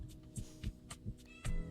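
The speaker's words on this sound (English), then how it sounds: "You'll get to hear my cats." Pet cats meowing indoors in a quick run of short, close mews, several in under two seconds, with a soft hum underneath.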